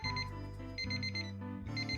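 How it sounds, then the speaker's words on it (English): An alarm clock in the Returns Outlet Simulator video game rings steadily and loudly on its own, a repeating electronic beeping tone with short gaps between bursts. "that's my alarm for auction"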